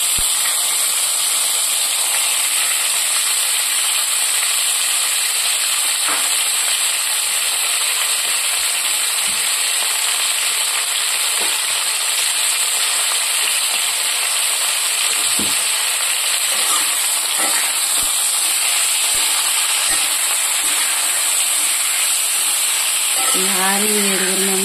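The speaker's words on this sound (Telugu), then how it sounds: "దానిలో ఈ పచ్చిమిరపకాయలని మనం అన్నీ కూడా వేయించుకోవాలండి" Green chillies fry in a pan over a low flame, a steady dense sizzle and hiss running throughout with faint scattered clicks and stirring underneath, loud and close.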